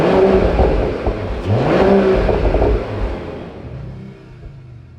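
A Mercedes-AMG CLE 53 six-cylinder engine in race mode revs up sharply a few times, rising and falling in pitch, then settles and fades toward a lower hum.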